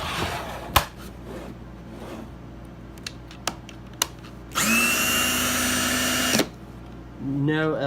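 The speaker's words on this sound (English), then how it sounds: "Let's pop battery in the drill." A Ryobi cordless drill from a four-piece kit whirs up into a loud, steady high-pitched motor whine for about two seconds, preceded by sharp clicks and knocks of handling, then starts spinning up again at the end.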